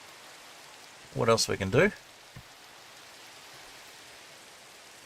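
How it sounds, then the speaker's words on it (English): Steady rain falls in a Minecraft-style game world near a taiga village, a soft continuous hiss that runs the whole way under a short burst of talk. "A lot of rain at the moment."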